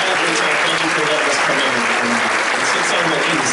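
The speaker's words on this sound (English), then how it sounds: "Can we give her a round of applause?" Dense, steady applause from a live concert audience fills the space continuously, with voices mixed into the crowd noise.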